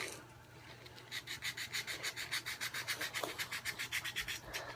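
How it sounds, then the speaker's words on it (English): Folded 220-grit sandpaper rubs across a stone in quick, even back-and-forth strokes, about three or four a second, quiet and close with no talking. "now I'm going to move on to the 220 sandpaper"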